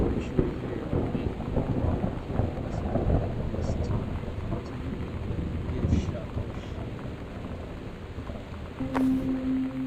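Cold rain and rumbling thunder in the video game Gone Home, a steady rainy wash with low rolling rumbles and a brief tonal sound near the end.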